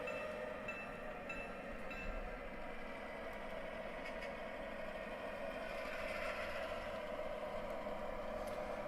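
A model train locomotive pulls a grain train in reverse across a model railroad layout after its brakes release, giving a steady, low, continuous rumble with faint mechanical whine and no talking.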